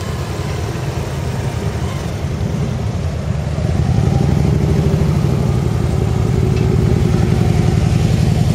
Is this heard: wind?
no